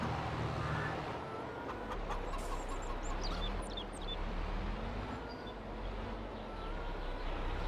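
Chickens cluck and chirp over a steady low hum in Farming Simulator 22, with a few higher squawks scattered through; no talking.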